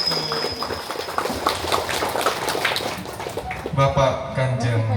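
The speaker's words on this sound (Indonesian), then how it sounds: "Tepuk tangan" Children clap their hands together at a world peace painting competition, a quick run of sharp, uneven claps over several seconds, ending as voices take over at the close.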